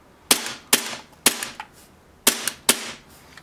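Five sharp snapping shots from a Tokyo Marui M&P airsoft pistol emptying its last BBs, close and crisp, fired in an uneven rhythm with short pauses and a longer gap before the final pair.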